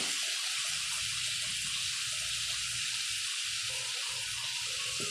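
Water runs steadily from a tap in a home kitchen, a continuous close hiss with faint clatter underneath and no talking.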